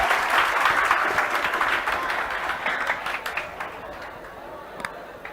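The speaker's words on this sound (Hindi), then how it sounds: "जबरदस्त तालियों के साथ स्वागत होना चाहिए।" An audience at a coaching academy event gives loud clapping to welcome a guest, starting strong and slowly thinning out over several seconds, with some voices mixed in.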